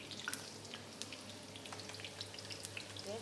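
Onions and tomatoes frying gently in a little oil for a chicken rice dish, with a quiet, steady sizzle and small crackling, spitting pops throughout, no voices.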